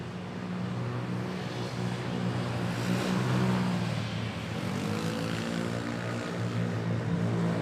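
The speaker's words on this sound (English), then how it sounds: "Two A330s on the move of Philippine Airlines here" Philippine Airlines Airbus A330s moving at Manila Airport, a sustained engine drone with shifting tonal hums rising and falling over a steady roar, moderately close and without speech.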